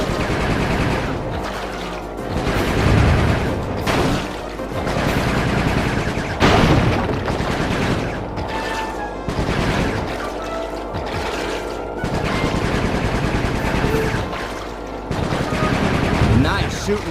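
Gunfire from the Sly Cooper 3 video game, dense bursts of shots and booms repeating across the stretch in loud, close volleys with brief lulls between, over a constant game soundscape.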